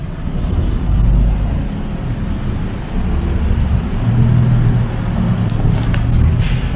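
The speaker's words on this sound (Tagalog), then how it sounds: "Medyo rush hour ngayon kaya medyo traffic talaga dito guys sa Bangkok." Rush-hour traffic on a busy Bangkok street, a steady loud rumble of car and bus engines with low idling drones and occasional brake hiss, continuous throughout with no talk.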